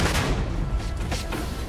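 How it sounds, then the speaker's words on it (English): A grenade blast in the video game Starfield, a loud, broad rumbling boom that fills the clip amid ongoing combat noise, close and heavy for over a second. "Throwing a grenade."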